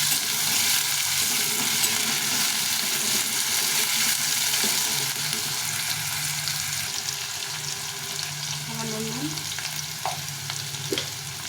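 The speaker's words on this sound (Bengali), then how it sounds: "লাল লাল করে ভেজে নেব" Pumpkin with chickpeas and peanuts frying in a pan gives a loud, steady sizzle throughout, with scraping stir strokes and a few light utensil knocks near the end, and no voices.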